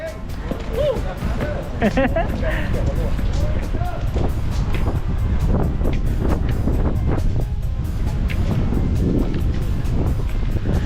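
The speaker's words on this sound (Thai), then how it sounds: "ตอนนี้ก็ลมพัดแรงมากเลยนะครับ" Strong wind ahead of rain at a Taiwan workers' gathering, a loud continuous roaring rush buffeting the microphone throughout, with people talking underneath.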